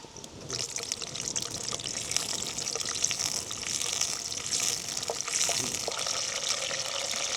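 Curry leaves dropped into hot oil at an outdoor forest cookout sizzle with a steady, bright frying hiss that holds throughout, fairly close and moderately quiet, with voices faintly underneath.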